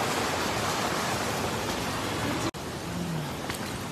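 Steady rain falls outdoors over a warm open-air pool in Italy, a dense, even hiss of drops that stays loud and close throughout, broken only by one brief dropout near the end.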